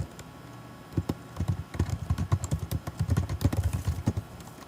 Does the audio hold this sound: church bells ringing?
no